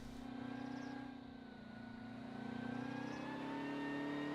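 A 1935 Ferrari racing car's engine drones steadily in a mid-pitched roar during the Targa Florio road race, holding a sustained tone that swells slightly as it passes, with no voices.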